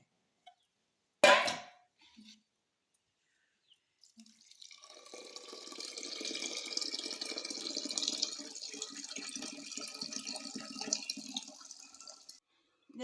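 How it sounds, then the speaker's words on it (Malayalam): A sharp knock, then after a pause a steady stream of water pours and splashes onto wheat in a container for several seconds, fairly close. "ഈ ഗോതമ്പിൽ നമ്മൾ വെള്ളം ഒഴിക്കുമ്പോൾ ഇത്തിരി അധികം വെള്ളം ഒഴിച്ചോട്ടെ"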